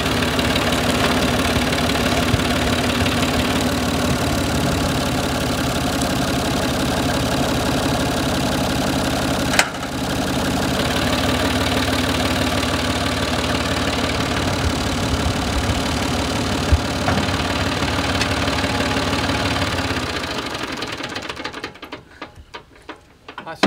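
A tractor engine runs steadily at a near, loud idle-to-low-rev drone with a rhythmic knocking chug, briefly dipping once partway through, then sputtering and cutting off near the end; no talk.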